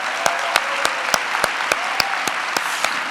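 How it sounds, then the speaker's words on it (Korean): A church congregation at a young adults' service claps to welcome a guest, dense applause punctuated by a regular beat of louder sharp claps roughly every third of a second, like rhythmic clapping along. "우리 박수로 한번 환영하겠습니다"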